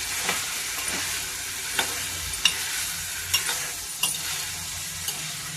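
Brinjal and chickpea curry is stirred in a hot pan, with a spatula scraping in regular strokes roughly every second over a continuous close sizzle.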